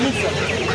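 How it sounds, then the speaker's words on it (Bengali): A brief burst of clucking from hens and roosters at a live poultry market, close and busy, mixed with faint murmuring in the background. "এখানে মোরগ আর মুরগি দুটো একসঙ্গে আছে।"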